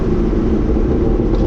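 A Chevrolet Corvette ZR1 fitted with a Corsa Extreme exhaust rumbles loudly and steadily, a deep, heavy engine drone filling the whole short stretch with no pause or speech.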